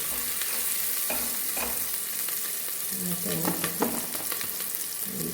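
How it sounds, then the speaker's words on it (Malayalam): Shallots and garlic fry over a full flame for a mushroom soup, giving a steady loud sizzle with a few stirring scrapes and clinks throughout. "ചെരിയുള്ളിയും കൂടെ വെളുത്തുള്ളി വെച്ച് ഇത് നമുക്ക് അങ്ങ് ഫ്രൈ ആവും ഇപ്പോൾ ഫുൾ ഫ്ലെയിമിലാണ് ഇത് ചെയ്യുന്നത്"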